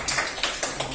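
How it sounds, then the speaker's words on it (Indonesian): Brief applause in a classroom, a few sharp claps in quick bursts, close and moderately loud, with no voices over it. "Tepuk tangan dulu."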